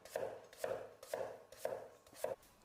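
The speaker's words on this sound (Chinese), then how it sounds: "先把南瓜切成片，然后再切成块" A knife chops through a peeled pumpkin on a board, cutting slices and chunks, with five crisp, evenly spaced thuds close up and no talk.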